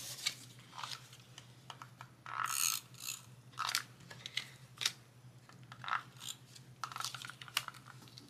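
A tape runner laying adhesive onto card stock for a DIY paper project gives close, quiet ratcheting clicks in short irregular bursts over a steady low hum.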